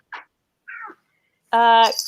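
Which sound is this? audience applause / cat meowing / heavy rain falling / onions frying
cat meowing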